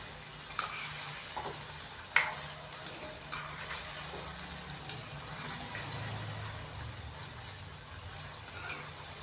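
Boneless chicken is stirred with ginger garlic paste in a pot, a low steady sizzle with occasional faint spoon knocks and scrapes, quiet and close throughout.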